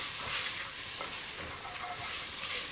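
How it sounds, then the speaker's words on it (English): Cloves and fresh turmeric sizzle in hot oil in a pan while being stirred through, a dense continuous frying hiss with soft scraping strokes close by and no speech. "Let's stir those through."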